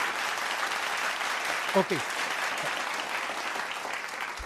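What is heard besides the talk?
applause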